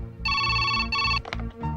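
A telephone rings in two long electronic bursts with a short gap, loud and close, followed by a brief clatter as the receiver is picked up.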